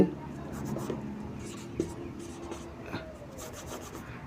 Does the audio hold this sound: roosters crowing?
no